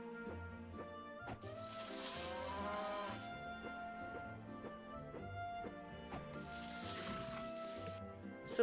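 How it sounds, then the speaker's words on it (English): Cows in the farming game My Time at Portia let out two drawn-out moos, each cut short, over the game's soft background music. "The little cows."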